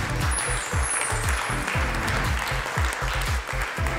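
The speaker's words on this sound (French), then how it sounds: "Tonnerre d'applaudissements pour lui, s'il vous plaît." Audience applause for the male coach of a fashion competition show, a steady dense wash of clapping that holds for several seconds over a thumping bass-heavy music beat.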